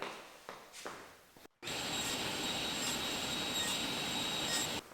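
A power saw cuts wood strips on a Fritz and Franz jig: after a few soft knocks and a brief pause, the saw whines up into a steady, loud high-pitched drone that holds for several seconds before cutting off.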